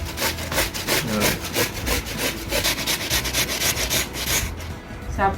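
Rhythmic scraping of peel from a turmeric-leaf dish ingredient root in a village Konkan kitchen, steady rasping strokes repeating close and loud with no talk.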